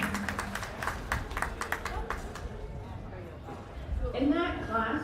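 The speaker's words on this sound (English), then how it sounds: "please give all the exhibitors a big round of applause" An audience at a county fair swine show claps for the exhibitors, a brief burst of scattered applause mixed with crowd chatter and an announcer's voice, fading into background murmur.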